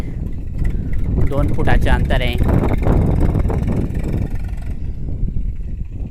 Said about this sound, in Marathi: आपल्या शेतात ट्रॅक्टर आलेलं आहे.